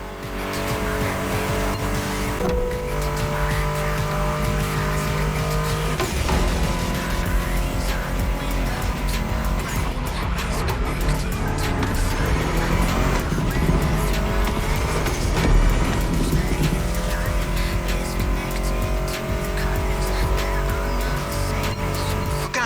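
Engine noise from a Mustang GT muscle car in the racing video game The Crew Motorfest, a steady loud drone with tire squeal mixed with music throughout, no speech.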